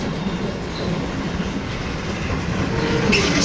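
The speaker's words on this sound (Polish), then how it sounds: "Ostatnia scenka, którą tutaj nagrywam telefonem, i bardzo fajna lokomotywa." A railway locomotive hauling a freight train rolls past, recorded on a phone, giving a steady dense rumble and rolling wheel noise that holds level and swells slightly toward the end, with no voices.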